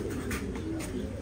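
Reddish-brown American Giant pigeons coo in a few soft, low, close repeated calls, with a steady background hum.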